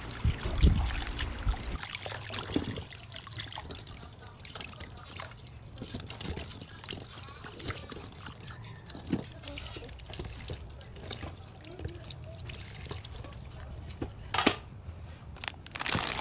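Eggshells washed by hand under running tap water before salting, a steady faint trickle with dripping and occasional light knocks and rubbing of shells, close and low in level throughout.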